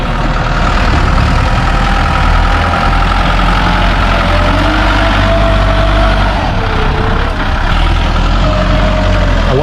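A tractor's diesel engine idles steadily nearby on a hillside work site, a continuous low rumbling drone that holds at a constant level throughout with no revving.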